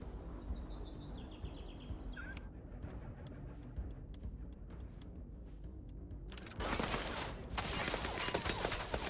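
Sci-fi gunfire in Starfield snaps out as a string of sharp, separate shots, then a louder, sustained burst of firing and noise takes over near the end.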